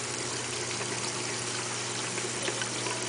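A large SWC Xtreme 230 protein skimmer churning in a saltwater aquarium, a continuous watery bubbling and trickling over a low pump hum, close and steady.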